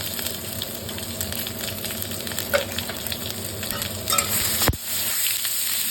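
Panch phoron spices and three torn bay leaves sizzle steadily in hot oil for mung dal with hilsa fish head, a continuous close frying crackle with a brief clatter near the end and no talk.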